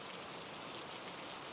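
Steady rainfall, a soft even hiss of drops pattering continuously with no breaks, faint and without voices.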